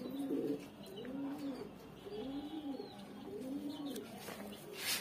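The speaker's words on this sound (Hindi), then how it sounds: "ये है पूरा कबूतर, तो ये बहुत तेज कबूतर है" A pigeon coos in repeated soft, throaty phrases, four or five rolling calls close by, with faint background noise.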